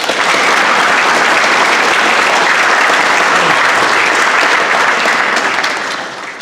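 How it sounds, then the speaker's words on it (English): Loud, sustained applause from a large crowd fills a football banquet hall, steady dense clapping throughout before tapering slightly at the end. "Let's give them a big round of applause."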